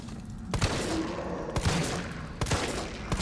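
Gunfire in the Resident Evil 3 Remake (2020) video game: three loud, sharp shots spaced about a second apart over a steady background rumble.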